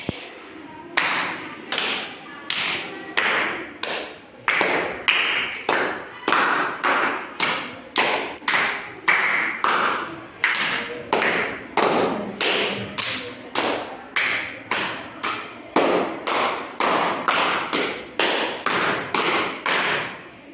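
A group of children claps together in a classroom clap exchange game, a steady run of sharp, loud claps in quick rhythmic bursts that repeat throughout.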